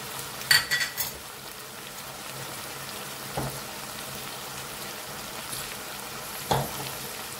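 Tomatoes with salt and pepper fry in a pan for minced-meat green beans, giving a soft, steady sizzle broken by a few sharper clatters near the start and later on.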